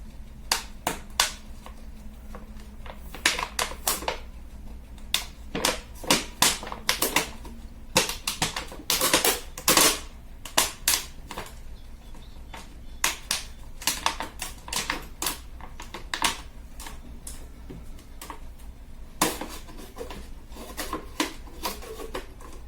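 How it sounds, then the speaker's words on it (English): Scissors or a blade snipping and rasping through a thin plastic bottle, cutting both ends off, in a series of sharp, irregular crackling cuts close up with short pauses between them and no talking. "I'm going to try to cut the two edges off."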